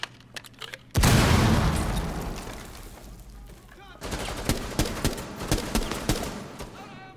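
Video game gunfire: a loud blast opens a long decaying roar, then rapid repeated shots rattle in quick succession near and loud, with faint voices underneath.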